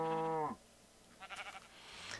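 A Minecraft sheep bleats, a clear wavering cry at the start, followed by quieter chirpy game sounds and soft rustling.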